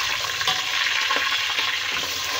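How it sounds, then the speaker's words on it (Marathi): Onions fry in hot oil in a pan until golden, giving a close, continuous sizzle with faint stirring scrapes, with no talking. "तर आपल्याला कांदा छान गोल्डन होईपर्यंत भाजून घ्यायचा आहे"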